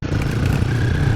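A KTM motorcycle engine runs on an off-road ride, a loud, close, continuous rumbling drone with no break.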